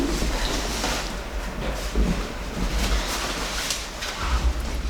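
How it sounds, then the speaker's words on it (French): Steady rain falling outdoors at a zoo, a dense continuous hiss with low rumbling gusts underneath, close and unbroken with no voices. "Malheureusement, il pleut"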